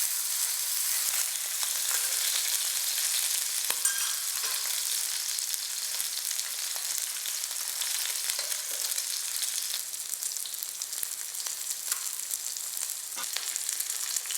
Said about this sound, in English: Fry the fish till it's golden brown on both sides.